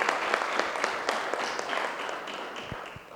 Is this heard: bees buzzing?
no